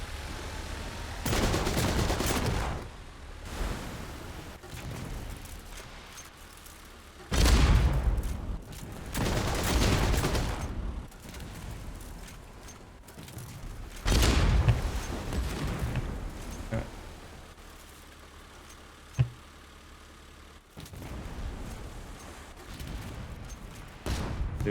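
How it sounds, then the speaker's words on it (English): Cannon fire booms in the Age of Water naval combat game, several heavy blasts at irregular intervals with rumbling, crackling tails and steady background action between shots. "Oh, the cannon is still firing."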